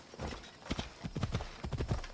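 Horse hooves clip-clop at a gallop in Assassin's Creed Odyssey, a quick uneven run of thuds growing louder over a couple of seconds, with no one speaking.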